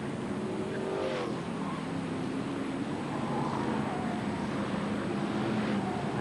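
Stock cars roar around a longtrack at a 1990 world championship pre-qualifying race, a steady, distant engine drone that never lets up, with passing cars swelling now and then.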